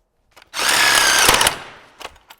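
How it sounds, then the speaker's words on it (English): A Sawzall reciprocating saw cuts into a 1980s Land Cruiser in one short, loud burst lasting about a second, a harsh buzzing rasp that stops abruptly and is followed by a couple of faint clanks. "once you hear it kind of grab onto the blade of the Sawzall"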